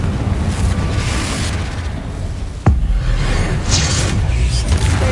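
Confringo fire-blast spell exploding in Hogwarts Legacy on PS5, a sharp loud crack partway through over a steady roaring rumble of wind-like noise.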